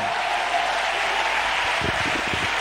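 A church congregation breaks into steady, dense applause, loud and close, with many hands clapping together for the full length of the clip.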